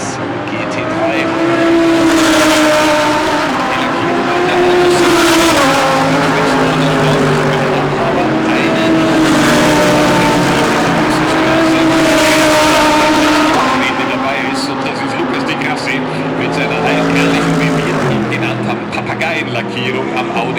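DTM race cars, GT3 machines including an Opel and an Audi, lap the Norisring street circuit during Sunday qualifying in 2021. Loud, rising and falling engine howls sweep past one after another, with overlapping revs and downshifts throughout.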